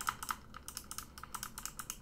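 Arrow keys on a computer keyboard are tapped over and over in a quick, fairly even rhythm of light clicks, close but soft, with no one speaking.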